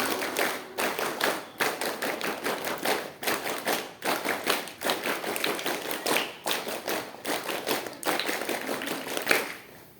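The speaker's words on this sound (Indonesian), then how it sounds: "3 kali tepuk Pramuka" A Scout group claps in a rhythmic patterned cheer, a crowd of hands striking in quick synchronized bursts with brief pauses between phrases, loud and close, repeating across the whole stretch.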